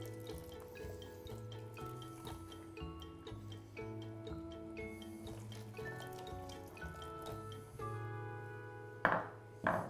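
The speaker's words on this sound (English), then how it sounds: "I'm gonna use a little bit of the water from the potatoes and just add it right to the gravy" Starchy potato cooking water trickles steadily into a pan of thickening gravy for country fried tofu, a faint, continuous pour heard close up, with a couple of small splashes near the end.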